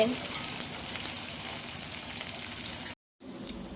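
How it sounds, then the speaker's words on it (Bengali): Onions frying in a pan for a mutton dish give off a close, continuous sizzle that cuts out briefly for a moment near the end before resuming, with faint talk in the background. "পেঁয়াজটা ভাজা ভাজা হয়ে গেছে।"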